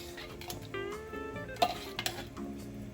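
A utensil stirs Campbell's Cheddar Cheese Soup into mac and cheese in a pot over low heat, with soft scraping, a few sharp clinks against the pan and a faint sizzle underneath.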